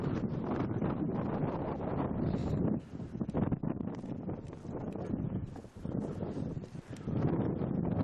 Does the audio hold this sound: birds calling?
no